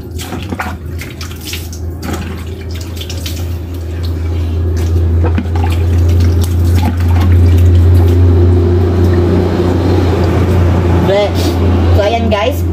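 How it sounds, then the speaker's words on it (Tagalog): Water is splashed onto a face during washing, giving close, wet slapping and trickling sounds over a steady low hum, with someone speaking over it. "Kukuha lang po ako ng tubig. And then ayan. So hilamos na po ako."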